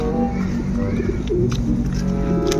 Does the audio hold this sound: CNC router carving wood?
no